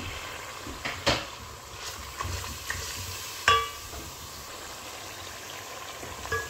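Dried red chilli, coriander, cumin and curry leaves sizzling in hot ghee, a soft steady fry under occasional spoon knocks and clatters, no talking.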